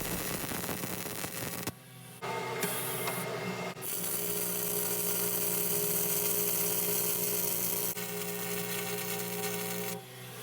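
MIG welding with 0.030 ER70 wire and 100% CO2 gas on a concrete mixer repair, a loud continuous crackling hiss in several long runs broken by short pauses, with no talking.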